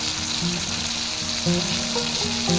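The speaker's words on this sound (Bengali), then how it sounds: "এবার অ্যাড করবো টমেটো" Tomatoes hitting a hot frying pan in a home kitchen where fish head and taro are cooking, giving a steady close sizzle with a few brief louder bursts as they land, no voices.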